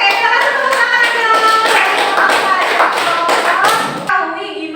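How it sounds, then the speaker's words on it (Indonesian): Classroom applause from students, a dense patter of many hands clapping together for about four seconds, fairly loud and steady, with a brief voice murmuring after it stops. "Oke, kita kasih tepuk tangan aja."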